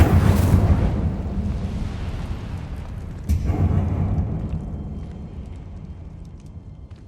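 A fiery spell erupts in a video game, a loud whooshing burst that roars at the start, flares again with a sharp crackle midway, then rumbles and fades away.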